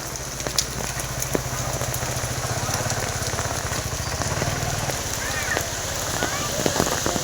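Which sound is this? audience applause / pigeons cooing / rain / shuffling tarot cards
rain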